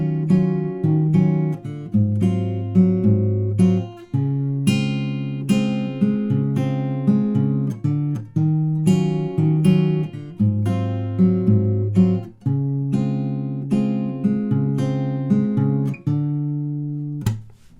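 Acoustic guitar fingerpicking the chorus of a song, a steady flow of plucked notes and chord tones in a lilting rhythm, close and clear, played alone for nearly eighteen seconds.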